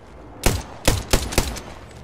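Gunfire in the battle-royale game Apex Legends: four sharp, loud shots spaced irregularly over about two seconds, each with a brief ringing tail, standing alone with no voices.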